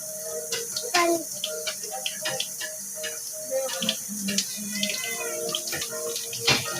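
Tap water runs steadily while dishes are washed at a kitchen sink, with faint clinks and ticks of dishware throughout and occasional brief voices in the background.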